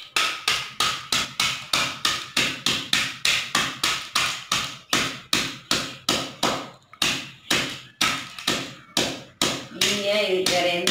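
Leftover soap pieces are crushed inside a cover with about thirty sharp, evenly spaced taps. Each knock is close and loud and fades quickly, before a brief shuffle of other noise at the end.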